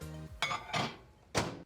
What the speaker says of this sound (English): we're gonna pop that in the microwave.